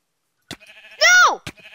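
A sheep bleats once in the Minecraft video game, a short wavering synthetic bleat set between soft clicks and light game sounds, with nobody talking.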